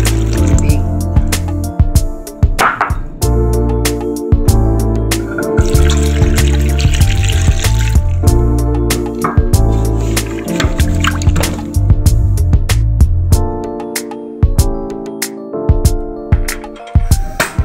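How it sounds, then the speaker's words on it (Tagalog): Water poured into a pot to boil sweet potato leaves, a steady splashing and trickling with drips and clinks, close and fairly loud, with no talking. "lagyan natin ng tubig"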